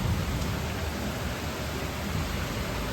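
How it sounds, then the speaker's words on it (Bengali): Heavy rain pours steadily during a morning downpour, a dense, continuous hiss at even loudness throughout with no distinct thunder rumble standing out. "দেখো কি পরিমাণে মেঘ ডাকছে আর বৃষ্টি।"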